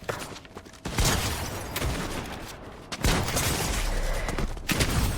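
Bursts of gunfire in Fortnite sound in loud, sharp volleys, with several shots and bangs close together and strong booms at about one and three seconds, followed by sustained noisy firing.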